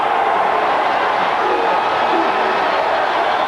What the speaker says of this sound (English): Boy, listen to this crowd